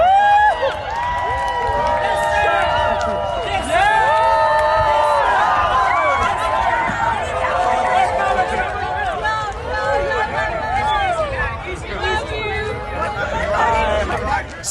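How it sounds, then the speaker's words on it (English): Spectators at Toronto's Pride Parade cheer, whoop and clap as the Prime Minister walks in, forming a loud, dense outdoor crowd din with voices and shouts throughout. "Watch Prime Minister Carney walking into Toronto's Pride Parade to applause with love, with joy."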